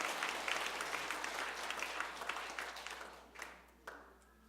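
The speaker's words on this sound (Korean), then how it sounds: "우리 수료한 학생들을 위해서 한번 박수 한번 주시기 바랍니다" A congregation applauds graduating students at a church completion ceremony, a dense burst of clapping that gradually thins and fades, ending in a few scattered claps.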